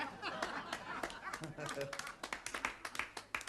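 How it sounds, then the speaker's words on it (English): Scattered applause from a TV studio audience, close and uneven, with several sharp claps standing out over a steady crackling patter. "Is that applause or someone put the chips on?"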